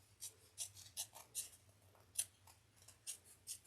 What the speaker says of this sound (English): we're going to trim just the side pieces that we just added on